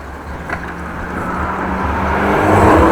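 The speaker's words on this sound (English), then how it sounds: "Car is speeding like crazy." A car speeds along a residential street in Beijum, Groningen, its engine and tyre whir rising steadily in loudness as it approaches, heard from a bicycle on the roadside.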